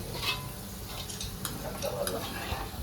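Onions frying in a pan for chicken biryani, with a steady soft sizzle, a few light clinks of a spoon against the pan, and a voice speaking faintly underneath.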